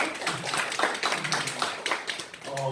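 Church congregation clapping at a Sunday afternoon worship service, a steady patter of many hands under a preacher's speech, moderately loud and fairly close.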